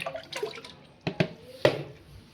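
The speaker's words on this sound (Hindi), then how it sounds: "चलिए अपने कपड़ों को धोते हैं" Warm water splashing and dripping while clothes are washed by hand, heard as faint, scattered sloshes with a few sharper splashes and no voices.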